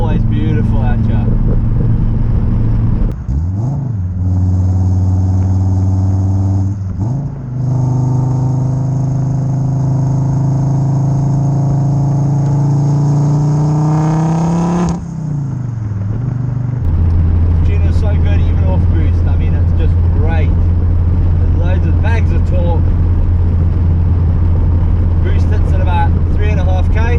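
Turbocharged XR5x4 car accelerating along a road, its engine note rising steadily through the revs before easing off and settling, with someone talking over the engine throughout.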